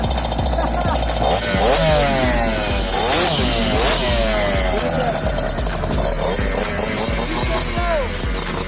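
Two 1990s dirt bikes, a Honda and a Kawasaki KX60, race with loud, buzzing two-stroke engines rising and falling in pitch as they rev and shift, voices shouting over them.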